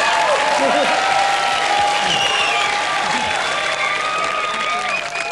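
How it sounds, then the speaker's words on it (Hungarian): Studio audience applauding a performer on a Hungarian TV talent show, a steady, loud wash of clapping from a large crowd with voices faintly mixed in throughout. "Nagy tapsot Bélának"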